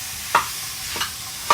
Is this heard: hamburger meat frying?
yes